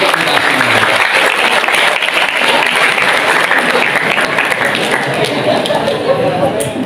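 Loud, steady applause from an audience at a school prize-giving ceremony in Mojokerto, a dense unbroken wash of clapping lasting throughout, with some voices mixed in.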